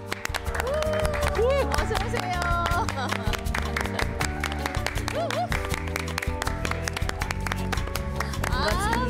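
Studio audience claps to welcome guests onto a Korean morning talk show, the applause steady and loud beneath bright music, while a host speaks a greeting over it.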